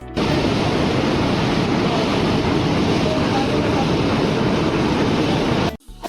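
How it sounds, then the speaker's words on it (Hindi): The Saraswati river rushes loudly near Mana village in Uttarakhand, a constant dense roar of fast water filling the whole stretch before cutting off abruptly near the end. "यहाँ पर आप सरस्वती नदी की आवाज भी सुन सकते हैं।"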